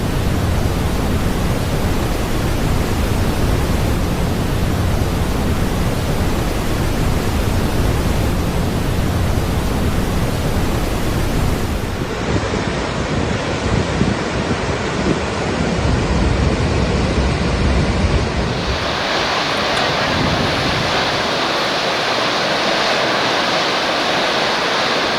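Gokak waterfall on the Ghataprabha river in the Sahyadri hills roars as a loud, steady broadband rush of falling water. The sound continues unbroken throughout, with no voices.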